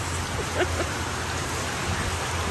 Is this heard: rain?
yes